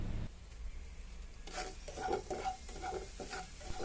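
Semolina stirred into hot ghee in a pan for a carrot payasam, giving soft sizzling with a spoon scraping in a few rhythmic strokes, quiet and close.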